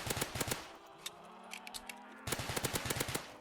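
Rapid bursts of pistol fire in a zombie shooter game: quick clusters of sharp shots, a short lull with scattered pops and a sustained tone, then another fast volley, close and loud with no talk.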